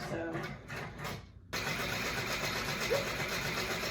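An embroidery machine sewing a satin stitch on a face mask in the hoop: a steady, rapid mechanical hum and needle patter begins after some opening talk and runs close and even to the end.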